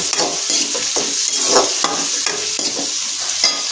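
Onion and tomato sautéing in a pan for a papaya and dried-fish curry, with a steady close sizzle and repeated scraping stirs at a regular rhythm, no voices.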